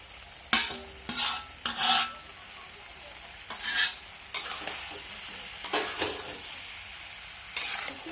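Chicken curry meat and potatoes being stirred in a pan, with several distinct scraping, sloshing stir strokes in short bursts separated by pauses, over a quiet background with no voices.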